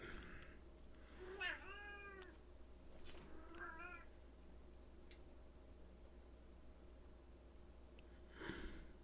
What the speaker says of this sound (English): I'm not going to be able to keep my thoughts straight if you keep meowing